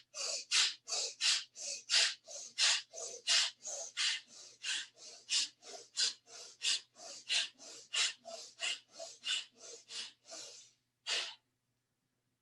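A person practises a yoga breathing exercise that imitates a dog sniffing, making about two dozen quick, close nasal sniffs in a steady pulsing rhythm. The sniffs end with a pause and one final breath.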